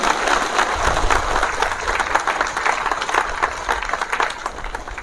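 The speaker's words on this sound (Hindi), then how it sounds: "तालियां बजाएंगे।" A church congregation claps loudly and steadily at the opening ceremony of the Jubilee Year 2025 in the Jashpur province, a dense, continuous wash of applause filling the hall throughout with no talk over it.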